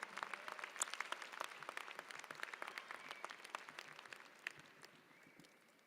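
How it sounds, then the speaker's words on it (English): Audience applause at a commencement ceremony, a dense wash of many hands clapping that holds steady and then gradually thins and fades toward the end. "let's give him one more round of applause"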